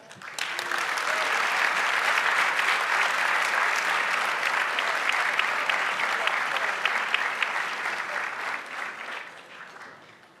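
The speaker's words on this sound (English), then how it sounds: "Please give a hearty round of applause for our National BDPA President, Ms. Monique Berry." A large gala crowd at the 2013 National BDPA Awards applauds the national president, with a broad, sustained wash of clapping that swells quickly, holds for several seconds and fades at the end.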